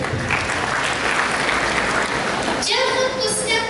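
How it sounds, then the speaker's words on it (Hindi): An audience at a school Hindi-week children's poetry gathering claps loudly to welcome a young speaker, dense continuous applause that gives way near the end to the start of a voice. "जोरदार तालियों से उनका स्वागत करें"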